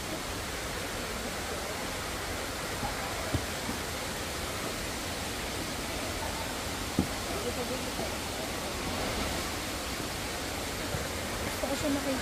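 Steady broadband roar of Hulugan Falls, a waterfall on a forest trail, constant and enveloping for the whole stretch, with faint footsteps and small knocks now and then but no clear talk over it.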